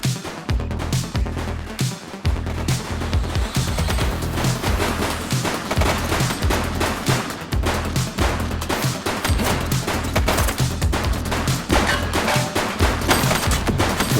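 Sustained gunfire from a police shootout with gang members in the crime game The Precinct: dense, rapid bursts of shots layered over a heavy, continuous game soundtrack, loud throughout with no pauses.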